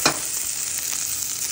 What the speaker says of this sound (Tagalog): At saka, i-mix natin ang onion.